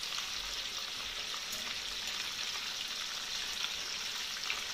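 KFC-style crispy breaded chicken pieces fry in hot oil, giving a steady, dense sizzle with fine crackling that continues evenly throughout, with no voices.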